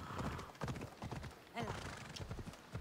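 Horse hooves pound in Assassin's Creed Odyssey, a quick uneven clatter of galloping close by, with snorts and a whinny mixed in and someone talking over it.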